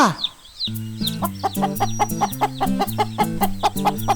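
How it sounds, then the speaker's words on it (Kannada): Cartoon clucking of native chicks and hens in a rhythmic, bouncy pattern over a steady musical backing, close and fairly loud, with no talk. "ಆಹಾ, ಇದು ನಾಟಿ ಕೋಳಿ ಮರಿಗಳಲ್ವಾ?"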